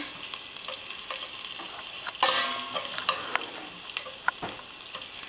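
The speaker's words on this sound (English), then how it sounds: "I'm just gonna wait till the garlic turns a little brown." Garlic frying in hot oil in a pan while making rasam, a steady close sizzle and crackle with a few sharp pops and a brief stir scrape, no voices.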